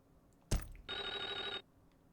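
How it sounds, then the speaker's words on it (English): A telephone in the horror video game Clock Tower: Rewind gives a single short electronic bell ring, just after a sharp thud, in an otherwise quiet scene. "Stop calling a dead phone."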